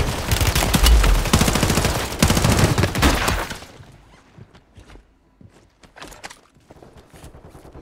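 Rapid automatic gunfire from the new STG and SMG in Warzone on Rebirth Island, a loud dense burst of shots for several seconds, then scattered single shots and footsteps as it quiets down.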